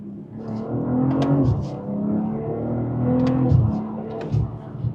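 A BMW M4 engine working through quick gearbox downshifts, its rising and falling exhaust note punctuated by sharp crackles and pops at each shift, loud and close with two distinct downshift sequences.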